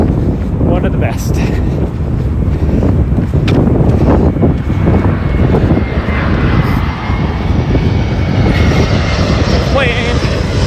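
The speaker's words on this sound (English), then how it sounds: "Plane." A fixed-wing airplane passes overhead just beyond the end of a runway, its engine roar loud and steady throughout, mixed with gusty wind buffeting the microphone outdoors.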